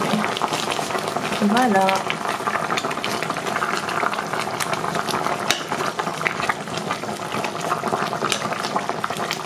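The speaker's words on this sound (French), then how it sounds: "Avant ça je vais vérifier encore mon tagine." A lamb tagine simmering on the stove gives off a steady bubbling, crackling burble that runs throughout, fairly close and continuous, with a brief spoken word near the start.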